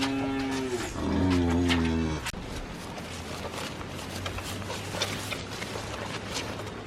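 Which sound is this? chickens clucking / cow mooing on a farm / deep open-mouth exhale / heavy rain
cow mooing on a farm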